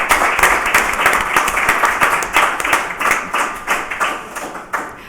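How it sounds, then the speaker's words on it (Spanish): Close, lively applause from an audience at a book presentation, dense hand claps lasting the full stretch with no voices over them. "pues un aplauso"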